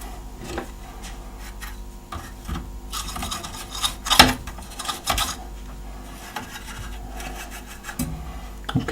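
Brush bristles scrubbing dust out of a 1991 JVC AX-142 stereo amplifier, irregular scratchy strokes and rubs with scattered ticks and small knocks, close and fairly quiet, one sharper burst near the middle.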